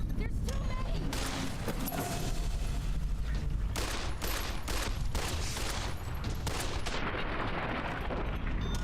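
Gunfire from the video game Fallout: New Vegas rings out as a dense, continuous burst of shots and booms, loud and close, with a sharper cluster near the end.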